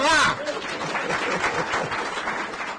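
Studio audience clapping on a Nigerian call-in program, a brief voice at the start giving way to steady, moderately loud applause that continues throughout.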